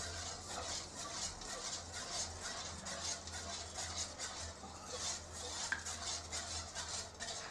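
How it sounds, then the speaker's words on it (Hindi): A spoon mixes a homemade kitchen remedy in a bowl, giving repeated faint scraping and clinking strokes in a steady rhythm, close by and quiet. "अब इसको अच्छी तरह से मिक्स कर देती हूँ"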